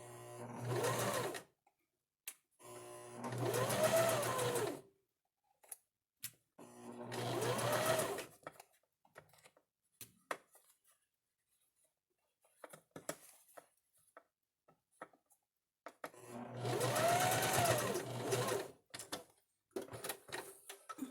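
A sewing machine stitches the two overlapping front layers of a nursing top in several loud, close bursts of one to two seconds, separated by quiet gaps with faint handling noise.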